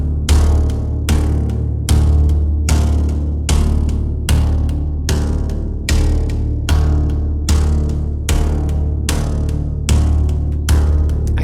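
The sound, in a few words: hybrid sound from processed acoustic guitar with contact mic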